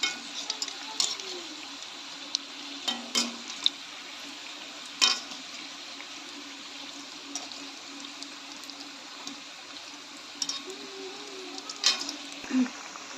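Vegetable chops fry in hot oil with a soft, steady bubbling hiss, broken by a few sharp clicks and taps as pieces are turned in the pan.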